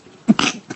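A person sneezes once, a short, close, explosive burst with a brief catch of breath before and a faint exhale after.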